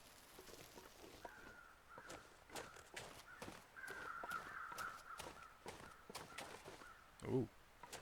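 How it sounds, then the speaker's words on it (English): Crows cawing overhead in The Long Dark, a series of harsh calls spread across the scene over a bed of footsteps and ambient noise, ending with a louder nearby thump. "yes, there are crows up overhead"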